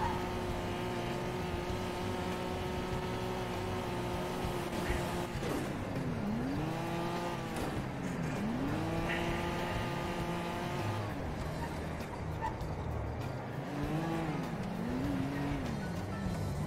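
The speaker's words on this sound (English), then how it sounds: "Traffic's going a little crazy." Car engines in a roleplay video game rev and drone, rising and falling in pitch as vehicles drive past, with tire noise over a steady traffic hum.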